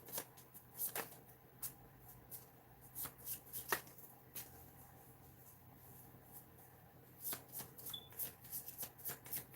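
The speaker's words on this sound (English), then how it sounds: "I'm going to see if anything comes out with these cards that I'm shuffling right now" Quiet riffling and snapping of playing cards being shuffled, in irregular bursts with short pauses, close by and with no talking.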